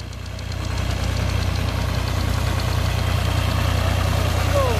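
A tractor engine runs steadily nearby with a deep, rhythmic knocking chug that builds slightly in the first second, then holds an even idle-like throb.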